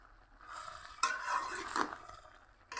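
Bottle gourd curry with fish head and chili powder is stirred and fried in a pan, giving soft scraping and gentle sizzling at close range, with a brief clink near the end.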